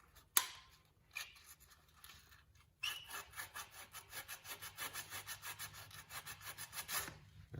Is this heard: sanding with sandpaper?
yes